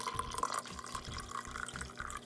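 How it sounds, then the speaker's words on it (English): Hot soy milk pours into a chai spice yerba mate latte in a cup, a running, splashing stream with small drips that rises and falls. "Pour in this hot soy milk."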